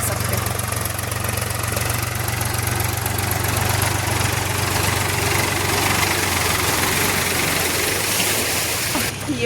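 A tractor engine idles on farmland, giving a steady, unbroken low rumbling drone mixed with broad hiss that holds at an even level throughout.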